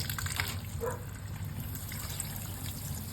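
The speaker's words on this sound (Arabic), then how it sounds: "شوف الميه كلها هتبقى بالشكل ده، تنزل من الفتحات زي كده" Water streams from the holes of a dishwasher spray arm as a steady, soft trickling and splashing, continuous and fairly quiet throughout.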